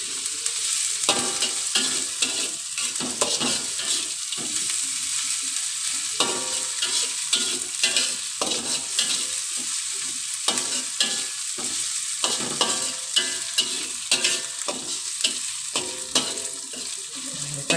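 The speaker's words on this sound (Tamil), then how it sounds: "இஞ்சி, பூண்டு, சோப்பு மிளகா எல்லாத்தையும் போட்டு வதக்குங்க." Ginger, garlic and chilies sauté in oil in a pan for a turmeric coconut curry, a steady close sizzle broken by frequent scraping stirs throughout.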